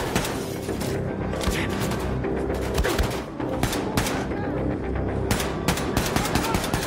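Rapid machine gun fire in Wolfenstein II: The New Colossus clatters in dense, repeated bursts through the whole stretch, loud and close.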